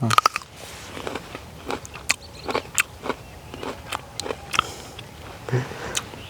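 Someone bites and chews a ripe kul (jujube) fruit, giving a series of close, crisp crunches and chewing sounds in an uneven rhythm, with a few short soft noises between them.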